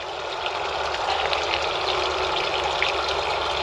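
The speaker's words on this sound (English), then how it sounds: "We have one through hole that's pumping out water" A boat's air conditioner discharge pumps water overboard through a hull through-hole on a Jeanneau Leader 9.0, a steady, moderately loud gushing rush of water that stays even throughout, with no speech.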